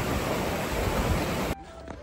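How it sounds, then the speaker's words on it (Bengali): Avalanche Waterfall near Ooty roars as a dense, steady rush of water close by. It cuts off abruptly after about a second and a half, leaving quieter background sound. "এখানে সেই সুন্দর ওয়াটারফল হচ্ছে,"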